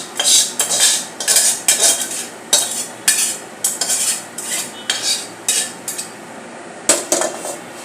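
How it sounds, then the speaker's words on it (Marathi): Marinated prawns go into a tomato masala for prawn rice and are stirred. A utensil scrapes and clatters against the pan in quick, loud, repeated strokes, with no talking. "आपण मॅग्नाईट करून ठेवलेली कोळंबी घालून घेतोय"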